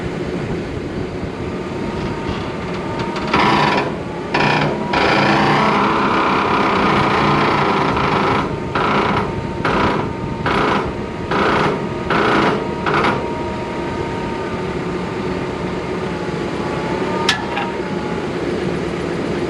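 A compact tractor with a side-mounted mower cutting oat hay, a steady mechanical drone with bursts of rapid clattering from the cutter bar, close and continuous.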